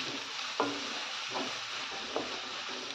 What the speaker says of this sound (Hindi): भून लेते हैं इसको एक दो मिनट।